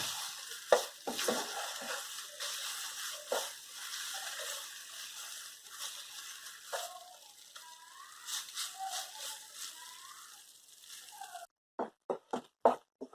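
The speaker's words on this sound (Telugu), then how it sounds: "ఇది కాస్త స్టవ్ చిన్నగా పెట్టేసుకొని నిదానంగా వేయించుకోవాలి" Khoa being slowly stir-fried in a pan on a low flame, with a soft continuous sizzle under repeated scraping strokes of a spoon, ending in a few sharp clacks against the pan.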